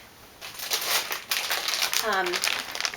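A plastic-wrapped pack of Recollections cards and envelopes crinkles and rustles as it is picked up, a close, brief flurry of crackling with a voice speaking alongside.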